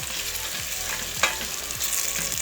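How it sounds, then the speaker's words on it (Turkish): Tomatoes sauté in a pan for a Turkish dried bean stew, a steady loud sizzle and crackle of frying that carries on without a break and with no voices. "Şimdi, şimdi biraz da kavurduktan sonra Domateslerim biraz özleştikten sonra"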